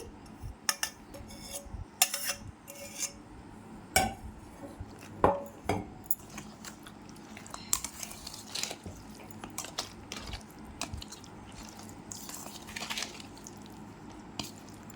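A spoon stirs broad beans pickle chutney made with tamarind and a tempering, giving faint, intermittent wet squishes and light scraping clicks in a quiet kitchen.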